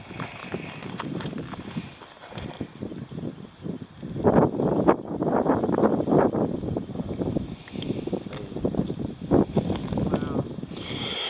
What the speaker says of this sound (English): Sorry for the wind, it's awfully windy up here on top.